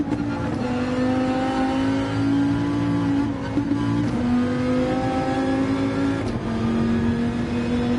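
A race car engine in Gran Turismo 7 holds a steady high drone with a couple of brief dips as gears shift, loud and continuous, with no voices over it.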